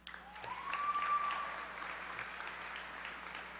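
Steady applause from an audience at a high school graduation ceremony, fairly distant and even, with a short whistle cutting through near the start.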